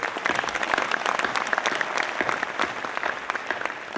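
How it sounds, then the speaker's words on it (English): An audience at a Startup Istanbul 2017 talk claps in a dense, steady burst of applause, loud and continuous throughout. "I will applaud."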